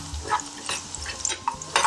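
Onions soften in a hot pan, giving a close, steady sizzle broken by several scraping stirs of a utensil against the pan; no one speaks.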